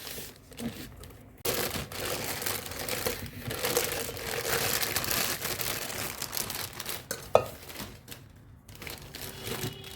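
A new Pigeon pressure cooker is unpacked with close crinkling and rustling of its packaging, coming in irregular bursts with a few sharp crackles and brief pauses.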